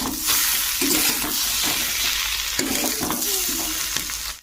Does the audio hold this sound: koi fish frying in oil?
yes